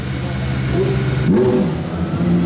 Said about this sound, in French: le démarrage d'une T50 se fait toujours en 2 étapes